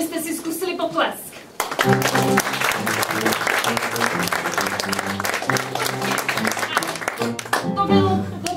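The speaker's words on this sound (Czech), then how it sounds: "Takže já vás poprosím, abyste si zkusili potlesk." Crowd applause at the opening of a match, heard after a short stretch of speech, with a burst of clapping that swells loudly and holds steady with rhythmic music-like tones underneath before fading into more talk.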